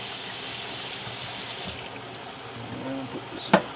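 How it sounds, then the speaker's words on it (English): Hot water pours into a container during a device repair, a steady trickling stream that thins out and stops, ending with a brief clink. "I'm just going to pour some hot water in here."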